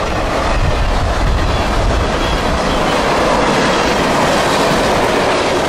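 A train rolls past close by, a loud, continuous rumble of wheels on rail with faint clickety-clack and no voices.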